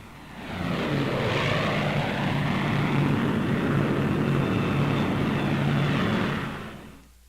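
Twin-engine Lockheed P-38 Lightning fighter planes flying overhead in wartime, a loud, steady propeller-engine roar that swells in within the first second, holds strong and even, then cuts away abruptly near the end, with no talk.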